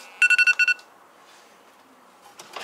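Kitchen timer alarm sounding after five minutes: a quick burst of six high electronic beeps in a rhythmic cluster, followed by near silence and a faint rustle at the end.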